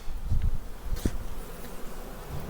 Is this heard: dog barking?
no